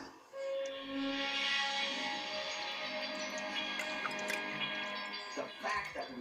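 Water pours steadily from a container onto a bean plot, a continuous splashing trickle that runs for several seconds close by, with a few brief knocks near the end.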